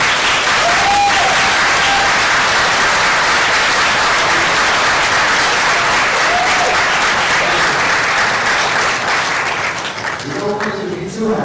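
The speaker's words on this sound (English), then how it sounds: "Please rise and give a round of applause." A large crowd applauds steadily and loudly throughout at an 8th grade advancement ceremony, a dense wash of clapping with a few voices rising near the end.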